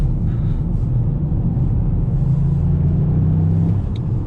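Toyota GR Yaris petrol engine pulling steadily under acceleration, a loud continuous low rumble from inside the car with a rising tone toward the end, no voices.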